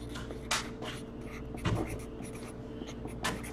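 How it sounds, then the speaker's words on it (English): Marker writing on a hockey card box case, a few close squeaky pen strokes with pauses between them in a quiet room. "Let me write show on here."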